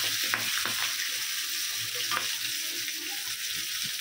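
Boal fish fry in hot oil in a pan, a steady, hissing sizzle running throughout with occasional spatters and scraping clicks, no voices heard.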